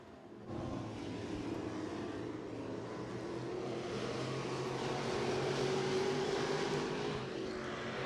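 Race cars running a ten-lap heat race at Senoia Raceway, a steady, distant-sounding roar of engines that holds constant throughout, with no talking.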